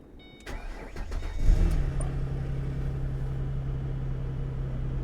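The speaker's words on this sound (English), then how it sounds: "Engine sounds good." A car engine cranks after a few clicks, catches and settles into a steady, close idle rumble that runs on alone.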